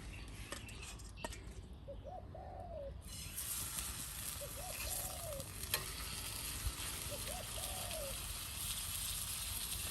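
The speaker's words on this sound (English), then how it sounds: "I wouldn't mind a little bit more sizzle there." Steady sizzling and crackling of steak searing on a hot backyard grill, continuous throughout, with a few soft bird coos in the background.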